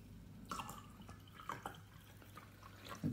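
Slimline tonic water is poured into a glass as a pink gin is mixed, giving faint, intermittent splashes and drips in a quiet room, with no talking.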